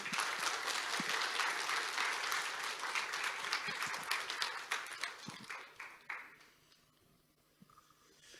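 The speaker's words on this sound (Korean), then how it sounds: "우리 나오실 때 우리 박수로 환영하겠습니다" A church congregation claps to welcome a visiting pastor, steady sustained applause from a seated crowd that thins into scattered claps and dies away near the end.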